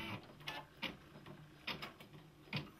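A Brother embroidery machine makes a handful of stitches, each one a short mechanical clack. Roughly five separate ticks come at uneven spacing, close and fairly quiet, with no voice over them.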